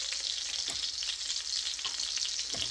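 Chicken fried cubed steak frying in a pan, a steady close sizzle of hot oil that holds evenly throughout, with a few soft scrapes or taps from utensils breaking in now and then.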